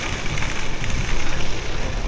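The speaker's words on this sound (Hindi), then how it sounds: "अब देखें कि इस वक्त इतनी तेज़ बारिश हो रही है।" Heavy rain pours steadily in Grasslands National Park on an Alaska road trip, a dense, loud, close hiss of drops drumming on a surface without pause, with no voices.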